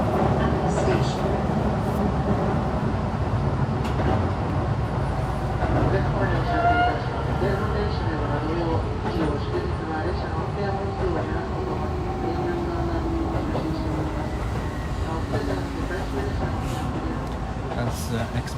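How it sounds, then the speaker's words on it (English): An express train on the Keihan line at Moriguchi, Osaka, bound for Kyoto, rumbles steadily for the whole span with a low roar and faint whining motor tones, loud and close, with muffled station voices mixed in. "That's the express train to Kyoto."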